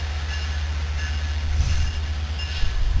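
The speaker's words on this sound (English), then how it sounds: "number 899 departs to continue on south with train 655 to Oceanside" Amtrak locomotive 899 pulls train 655 out of Fullerton station southbound, a heavy low diesel rumble that swells midway and stays steady throughout, with faint rail noise above.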